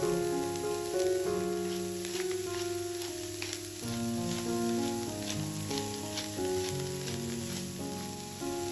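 Cabbage sizzling in a pan, a steady close crackle and hiss carrying on under soft music throughout.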